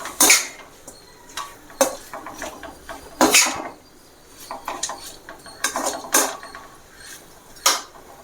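Chicken with chilli is sautéed in a pan, with a metal utensil clanking and scraping against the pan in loud, irregular bursts and no voices.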